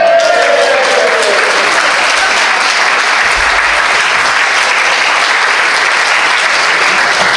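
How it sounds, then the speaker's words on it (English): An audience at a memorial concert applauds for the band's horn player, a dense, steady wash of clapping that stays loud and unbroken from start to finish. "So I would like to give a big round of applause please to our horn player,"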